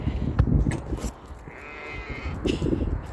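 Sheep and goats nearby in a noisy outdoor farm setting during lambing season, with a brief bleat rising over the rustling and shuffling background.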